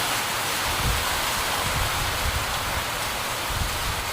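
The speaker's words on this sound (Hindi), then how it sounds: "बहुत एक बरसात हो गई" Steady rain pours down outdoors as a dense, even hiss that stays constant throughout, with no voices.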